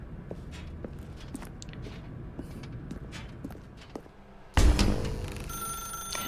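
A telephone rings in The Stanley Parable, a loud bright ring bursting in near the end after a stretch of quiet room ambience with soft footstep-like taps.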